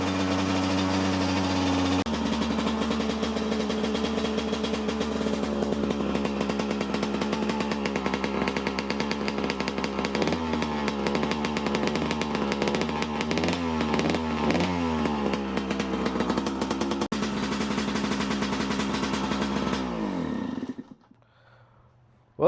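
A small engine runs steadily after carburetor work, a loud buzzing idle with its pitch shifting and revving up and down through the middle before it cuts out near the end. No one speaks.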